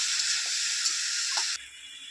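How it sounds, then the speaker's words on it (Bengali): Green chili paste, coarsely ground, sizzling with spices in hot oil in a village kitchen pan, a steady close hiss that drops off sharply near the end. "এবার আমি মশলার সঙ্গে ভালো করে এটা ভেজে নেব"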